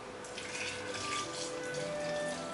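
Water poured back into a lucky bamboo container with pebbles, a steady close splashing trickle that runs the full length without any talk.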